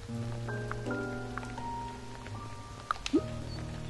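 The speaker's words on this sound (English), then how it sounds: "It's raining again, by the way." Rain falls in the farming video game Fae Farm as a soft, steady patter under louder game music with gentle melodic tones.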